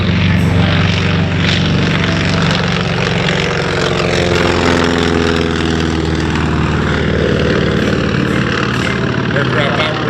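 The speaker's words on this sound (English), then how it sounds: "This is a Douglas SBD Dauntless, also powered by a radial engine." A Douglas SBD Dauntless warbird with a radial engine roars loudly and steadily at an airfield air show, its propeller drone filling the whole stretch.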